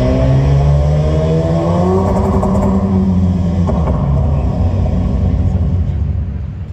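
Ram Rampage 2024 engine revving steadily, a loud continuous rumble with rising and falling tones held close throughout, easing slightly toward the end.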